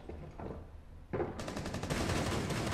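Gunfire in Rainbow Six Siege, a first-person tactical shooter: a sudden loud burst kicks in partway through and keeps going as steady, dense automatic shots to the end, with no talk over it.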